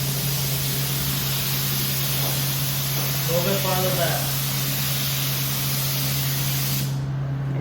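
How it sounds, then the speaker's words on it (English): A paint spray gun hisses steadily and continuously as it coats a car panel, the broadband spray close and even throughout before cutting off abruptly near the end, with a person briefly speaking over it. "Just go slow around it. And like you'll get the hang of it. Just like spray painting."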